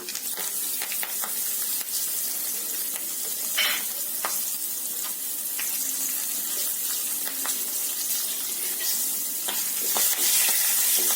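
Sliced onions sizzle and fry in oil with asafoetida, curry leaves and green chillies, a steady crackling hiss close by with occasional stirring scrapes and no talking.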